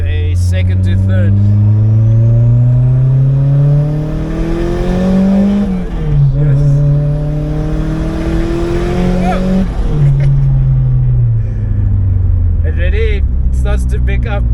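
A turbocharged, built-engine 200 kW Opel Corsa B GSI accelerates hard from inside the cabin, its engine note climbing through second gear, dropping at the shift and rising again in third, loud and continuous.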